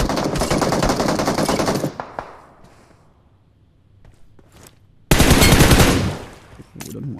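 Two long bursts of loud automatic gunfire from the video game PUBG Mobile, separated by a few seconds of quieter game sounds and faint footsteps, with short scattered shots in between.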